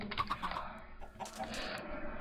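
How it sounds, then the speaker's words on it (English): Brief chicken clucks from a modded Minecraft game, a few short chirpy notes near the start and another shortly after, fairly faint over a steady low background. "Hey, chicken!"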